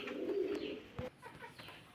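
A pigeon coos softly and close by, a low rolling coo followed by quieter calls, with a light knock in between.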